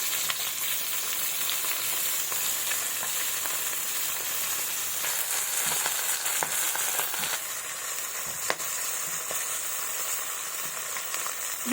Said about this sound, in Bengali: কত বড় মাথাটাকে আমি এভাবে ঘুরিয়ে ঘুরিয়ে ভাজবো